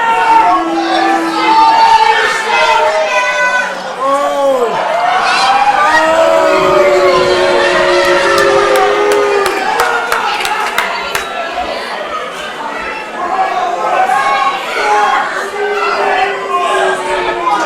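A wrestling crowd at an indie match between Tim Strange and Scott Plitt shouts and surges as fans rush back to reclaim their chairs, a loud, continuous roar of voices with overlapping yells throughout.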